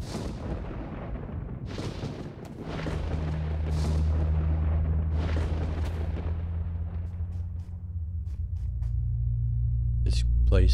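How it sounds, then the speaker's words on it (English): Deep, continuous storm rumble in a Noah story video game, a low roaring drone that swells and holds steady with booming thunder-like surges throughout, loud and close. "Oh no, here comes the storm."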